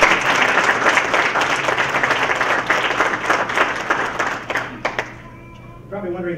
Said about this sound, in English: We applaud.